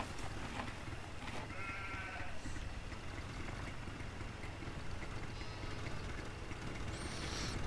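Sheep in the video game Farming Simulator 2013 bleat a few times, short nasal calls heard faintly over a steady low machinery hum, with no speech.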